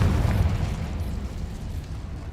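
A Confringo blasting spell in the Hogwarts Legacy game goes off as a deep, rumbling explosion that stays heavy in the low end and fades slowly over two seconds.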